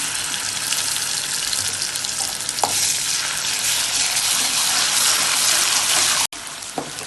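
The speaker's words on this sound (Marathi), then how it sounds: "अद्रक लसूण आणि मसाला फ्राय झाला आहे" Ginger, garlic and masala fry in a pan for a homemade chicken curry, a loud, continuous close-up sizzle with stirring scrapes and a brief cut in the sound near the end.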